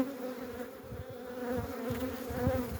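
Honeybees buzz steadily at an opened hive of a packaged eight-frame Carniolan-type colony, a continuous close hum with swelling bursts as individual bees pass near.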